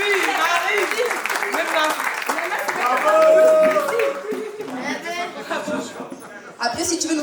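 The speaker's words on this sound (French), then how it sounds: "On applaudit bien fort Maxime." A small crowd claps and laughs for Maxime during a wedding celebration in Cannes, a loose patter of handclaps blended with chuckles and people talking over it, close and moderately loud.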